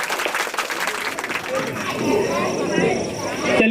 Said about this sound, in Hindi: एक बार इनके लिए जोरदार ताली लगाइए